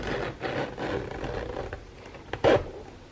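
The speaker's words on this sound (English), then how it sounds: "let's try and open it and listen to the zipper" A stiff, grinding zipper on a Louis Vuitton Utility Crossbody bag is pulled open in a slow, continuous rasping drag, close up, ending in a louder catch near the end.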